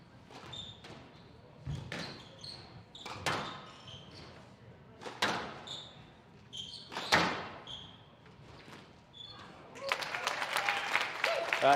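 Spectators at a Squash on Fire 2022 semi-final squash match in Washington clap and cheer in bursts, with sharp ball and racket impacts between, building to sustained applause at the end, with commentary talk underneath.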